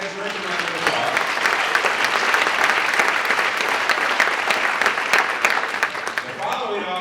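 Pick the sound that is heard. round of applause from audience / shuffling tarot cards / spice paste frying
round of applause from audience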